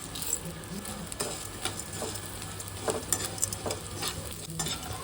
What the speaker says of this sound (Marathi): डिंक तळण्यासाठी 2 टेबलस्पून तूप घेऊ